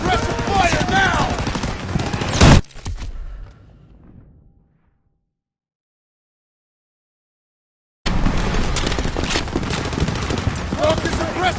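Suppressive gunfire in a Call of Duty battle over trenches, with loud, dense automatic bursts rattling for a few seconds, then dropping to silence before the heavy firing starts again just as loud.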